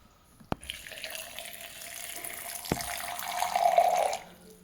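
Water runs steadily into a container while amla juice is being made with ginger, a soft continuous pour with a couple of light knocks, rising slightly in pitch as it fills before stopping.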